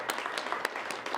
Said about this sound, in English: give a big warm round of applause to Poet Surprise.